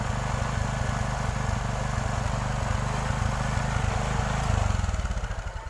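An overhauled motorcycle engine idles close by with a steady, rapid pulsing chug and a rough, noisy edge, holding an even rhythm throughout before easing slightly at the end.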